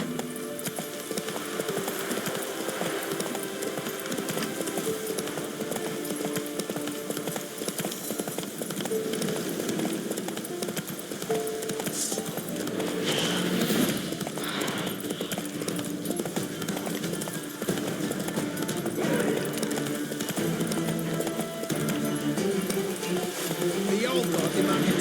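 A horse is ridden in The Witcher 3, its rhythmic hoof clops running steadily under a dense bed of game music and ambience, with in-game voices speaking at times.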